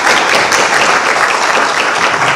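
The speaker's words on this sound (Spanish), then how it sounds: "yo ya les pido que recibamos a Juan Manuel con un fuerte aplauso" A seated audience at a conference breaks into steady, dense applause, loud and sustained with no voices over it.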